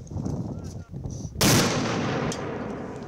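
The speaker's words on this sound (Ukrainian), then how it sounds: "вже не вперше стріляє з РПГ-7" RPG-7 grenade launcher fired during weapons training at a strongpoint in Orikhiv, Ukraine: a single loud, sudden blast following brief faint murmurs, then a sustained rumbling roar and decay.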